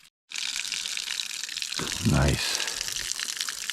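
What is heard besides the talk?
water flowing from a water source into a water bag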